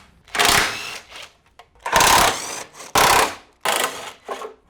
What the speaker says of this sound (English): that's what happens when you buy the cheapest impact wrench on Amazon